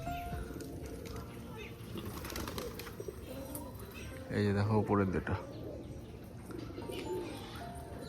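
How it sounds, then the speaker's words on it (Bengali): Domestic pigeons flying around, with a short burst of soft cooing and some wing flutter in the middle. Someone talks over much of it. "দুটো পায়রাই বাজি করে আর দুটো পায়রা ভালো ওড়ে"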